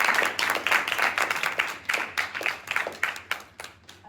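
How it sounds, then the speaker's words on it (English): Applause for the finalists of a high school parliamentary debate tournament, with individual claps standing out clearly in a fairly sparse, uneven rhythm from a modest audience, swelling and thinning in waves. "a round of applause for our panel finalists"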